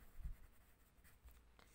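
A marker or chalk scratches briefly across a board during a French classroom lesson, a short, faint stroke against a quiet room.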